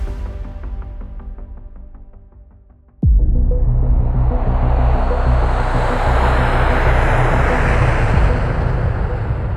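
A Garuda Indonesia passenger jet on flight GA974 takes off from Soekarno-Hatta Airport at night: a fading engine hum, then a sudden loud roaring surge that holds steady and powerful as the plane accelerates.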